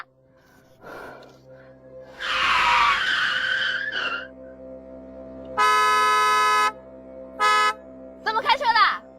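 On a city street, a loud raised voice is followed by a long, steady car horn blast, then a short toot and a quick series of stuttering honks, all close and loud.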